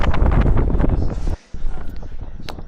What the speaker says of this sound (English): I'll just go back to the video volume so you can hear how windy it is